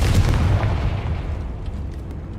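The Confringo blasting spell in Hogwarts Legacy lands as a heavy, booming explosion that hits loud at once and then rumbles away over a couple of seconds, with nothing else heard over it.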